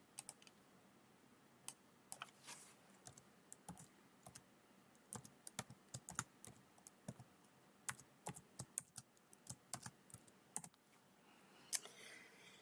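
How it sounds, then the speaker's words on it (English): Keys clatter on a computer keyboard in irregular bursts of close, crisp clicks, with short pauses between runs of typing and no talking. "I'm going to type it in just like that"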